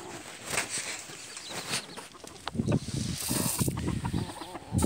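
Chickens, including a large rooster, clucking and squawking close by in a busy, noisy coop, with rustling and flapping mixed in and no talking.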